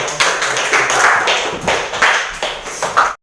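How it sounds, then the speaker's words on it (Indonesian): Classroom applause after a student group finishes presenting its assignment, a dense burst of many hands clapping together for about three seconds before stopping abruptly. "Berikan tepuk tangan."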